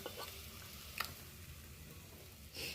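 Egg fried rice frying in a pan gives a steady sizzle, with a couple of sharp utensil taps against the pan and no voices.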